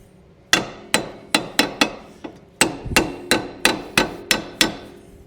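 Brass hammer striking the wheel hub studs on a 2001-2005 Honda Civic during a wheel bearing job, about a dozen sharp ringing metallic blows at an uneven pace, loud and close with no talk.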